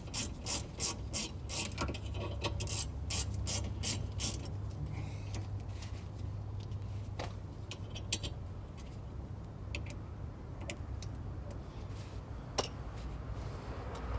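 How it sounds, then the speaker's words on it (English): A battery powered ratchet whirs with rapid clicking in several quick bursts during brake work near a caliper, loudest at the start and then fading to quieter mechanical clicks and shop noise. "battery powered ratchet. Who needs one of them, eh?"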